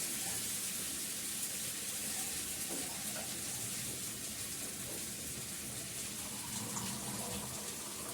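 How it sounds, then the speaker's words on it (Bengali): Water is poured into a cooking pot in a home kitchen, a steady splashing rush that holds at the same level through the whole stretch, close by, with no voices over it. "দিয়ে দেবো জল"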